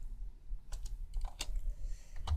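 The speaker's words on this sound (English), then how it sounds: "For this one, I easily type private, private" Quick bursts of typing on a computer keyboard, close and crisp: scattered single key clicks, then denser clusters of keystrokes toward the end, with no talking.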